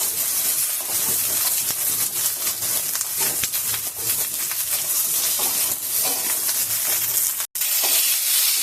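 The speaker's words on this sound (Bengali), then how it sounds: "বেগুনগুলো আমি একটু ভাজবো।" Eggplant slices frying in a pan give a steady, dense sizzle and hiss that fills the whole stretch, close and fairly loud, with a brief drop near the end.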